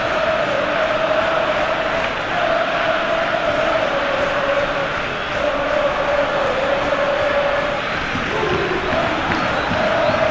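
A steady, loud stadium crowd roar in a football video game match between FC Barcelona and Atletico Madrid, a constant wash of noise with faint commentary over it.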